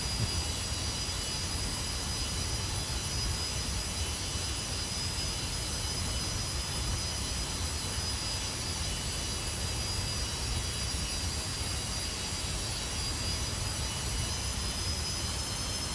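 Jet engines of an FSS Boeing 727 in Microsoft Flight Simulator 2024 drone steadily on approach into Oakland, a continuous broadband roar topped by a thin, high turbine whine, with no talk.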